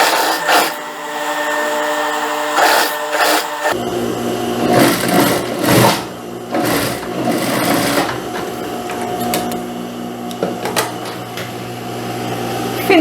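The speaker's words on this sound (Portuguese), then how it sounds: "Então eu só vou dobrar aqui, ó, duas vezes e passar a costura." A sewing machine stitches a double-folded hem on a dress, humming and whirring steadily up close with short pauses and restarts, and faint handling noises come through between runs.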